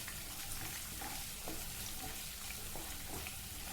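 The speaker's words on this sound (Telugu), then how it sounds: "ఈ మినప్పప్పు శనగపప్పు ఈ ఆనియన్స్ పచ్చిమిర్చి అనేది కొద్దిగా వేగాలండి" Urad dal, chana dal, chopped onions and green chillies frying in hot oil in a pan, a steady close sizzle with light stirring scrapes throughout, no talking.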